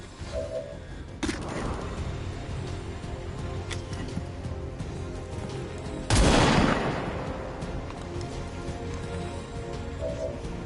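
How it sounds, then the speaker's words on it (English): Gunfire in the video game XCOM 2 comes as a sharp shot early on and a heavier blast later that trails off into a rumble, over a quiet game soundscape with no talking. "Hostile neutralized. Out of rounds."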